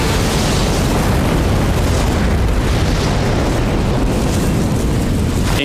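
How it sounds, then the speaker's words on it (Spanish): A bomb explodes beside a support pillar at the back of the Murrah building in Oklahoma City, heard as a loud, dense, unbroken roar of blast and rumble that fills the whole stretch. "La bomba explotó."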